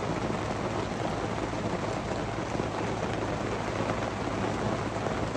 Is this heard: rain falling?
yes